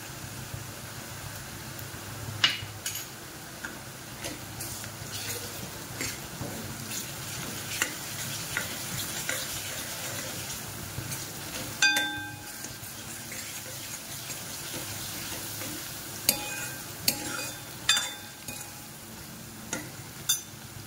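Chopped onion browning in a hot pan for pav bhaji gives a steady, even sizzle, broken by occasional clinks and scrapes of a stirring spoon against the pan. No one speaks.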